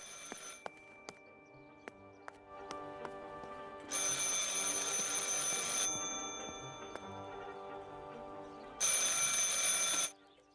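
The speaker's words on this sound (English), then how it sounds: "I should pick up the phone but remain silent." An old-style telephone bell in Martha Is Dead rings in two long bursts, loud and metallic, separated by a quieter stretch with scattered clicks and a faint tonal hum.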